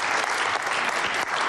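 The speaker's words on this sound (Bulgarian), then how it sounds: "Силни аплодисменти за тях!" A studio audience applauds on a Deal or No Deal television game show, with dense, steady clapping that fills the clip at close range, briefly dipping twice before resuming.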